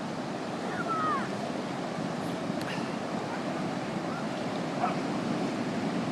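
Surf breaks continuously along the shore at Dog Beach in Ocean Beach, a steady wash under light wind noise, with a few faint chirps, probably seagulls, heard briefly over it.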